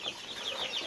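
Country chickens on a small farm cluck softly in a rapid, uneven series of short calls, fairly faint and a little distant, with no talk over them.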